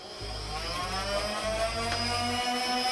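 The electric motor of a foam dart blaster whirs and hums in a steady loud drone, with low pulsing bursts as the flywheels spin up repeatedly.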